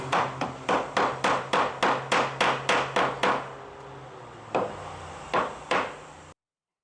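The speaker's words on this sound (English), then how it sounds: "That one broke too, so I'm just going to have to pound them in." A hammer pounds in a rapid series of about a dozen sharp, loud blows, pauses, then strikes a few more times, close up, during hurricane damage repairs.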